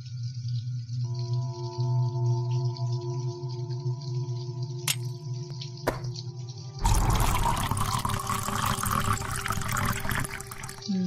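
Water pours from a pump into a bucket in a game set in Deadwood, a sudden loud splashing gush that starts partway in and continues steadily after a quieter stretch of background music and a couple of sharp clicks.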